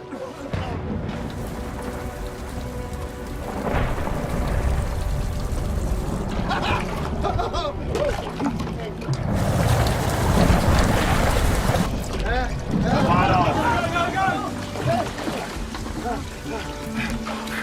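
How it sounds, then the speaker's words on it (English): Heavy rain pours steadily while low rumbles of thunder roll underneath, with excited voices shouting over the downpour. "It's raining! Water! It's raining!"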